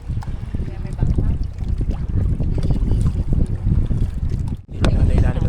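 A boat rides the sea off Polillo Island, with rumbling engine and water noise, heavy wind buffeting the microphone and a short dropout near the end; a voice talks faintly over it.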